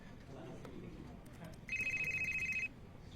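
A telephone rings once with a steady electronic trill lasting about a second, heard over a quiet room background while someone waits for a call to connect.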